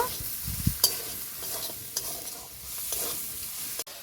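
Spice masala with Kashmiri chili powder is stirred and fried in a pan, giving a soft, steady sizzle with intermittent spoon scrapes and taps against the metal, close up and without speech.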